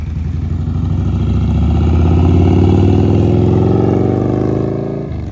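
A 2003 Victory Vegas motorcycle fitted with slip-on mufflers, revving loud and close with a raspy, pulsing exhaust note that swells and then settles back.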